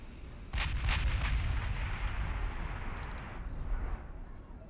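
Heavy 15-inch battleship guns fire in a naval battle in Ultimate Admiral Dreadnoughts, a few booming shots landing close together, followed by a long rumbling decay and a couple of fainter, sharp reports.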